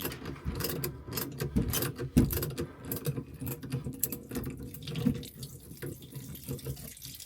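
A small ratchet works loose a fitting on a leaking kitchen tap drain under a cupboard, giving quick, uneven bursts of quiet clicks close by, over faint wet, clattery background noise and without any talk.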